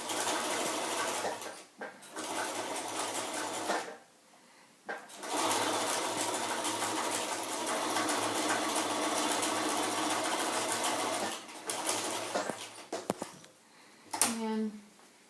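A home sewing machine stitches a fabric face mask in long steady runs, close and loud, broken by short pauses where the fabric catches and is repositioned.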